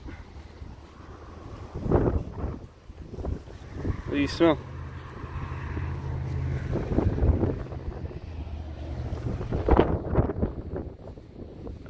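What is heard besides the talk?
strong wind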